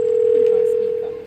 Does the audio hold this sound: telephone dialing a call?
yes